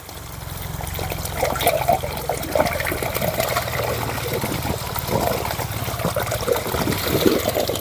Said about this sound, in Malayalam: ഈ വാൽവ് നമുക്ക് ഓപ്പൺ ചെയ്യാം ഈ ഓപ്പൺ ചെയ്തിട്ട് നമുക്ക് ഇതിലെ വെള്ളം ഫിൽറ്റർ ചെയ്ത് കച്ചറ വരുന്നത് ഞങ്ങൾക്ക് കാണാം